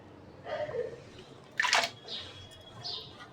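Freshly sliced potato pieces drop into a bowl of water in a home kitchen, making a few short, soft splashes and plops spread over a few seconds, close by with quiet pauses between them.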